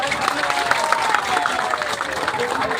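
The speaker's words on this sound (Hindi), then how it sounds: "जोरदार ताली सबकी" Loud applause from a crowd at a gathering about soldiers' concerns, dense continuous clapping with crowd noise that carries evenly throughout.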